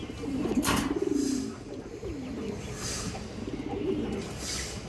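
Pigeons at a market stall coo in a close, steady murmur of rolling, throaty calls, with brief louder bursts of noise early on and a continuous busy background throughout.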